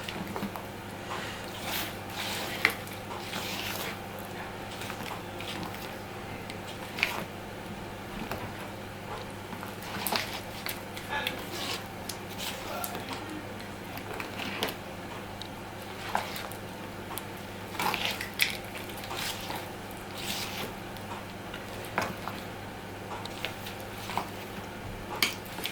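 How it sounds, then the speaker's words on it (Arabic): Soft, wet patting and squishing as flour is gently folded by hand into whisked egg batter for a genoise sponge cake, quiet and irregular over a steady low room hum. "شوفوا دابا غادي نبدا كنضيف هاد الفرص وانا كنحرك غير بشويه بحال هكا"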